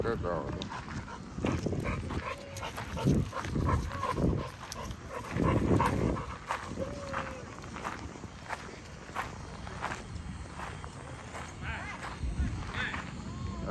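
Pit bulls and other dogs bark intermittently at an off-leash dog park amid footsteps and scuffling, with people talking over the commotion; the barks come in scattered bursts, some near, some farther off.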